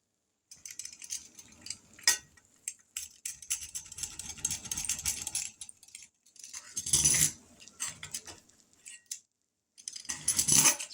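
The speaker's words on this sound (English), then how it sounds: "It's hard to get it cut right up against the edge of that skillet." A knife or pizza cutter scrapes and clatters against a skillet while cutting homemade pizza, giving sporadic metallic scraping and clinking bursts at close range, fairly quiet, with no speech.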